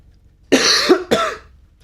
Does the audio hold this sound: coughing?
yes